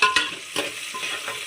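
Onions going into hot oil for chicken biryani, with a couple of sharp scraping stirs against the pot over a steady, soft sizzle.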